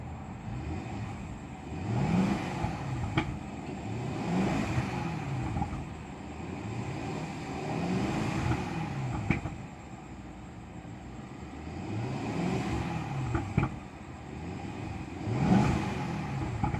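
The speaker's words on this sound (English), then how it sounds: "Alright, let's gonna give a couple of revs." A 2017 BMW 650i Gran Coupe engine idling and then revved several times, the roar rising and falling in repeated swells over steady idle, recorded close to the car.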